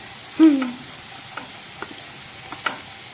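Onions go into a pan of hot oil with a faint, low sizzle, followed by a few sparse light taps and clicks of stirring in an otherwise quiet kitchen.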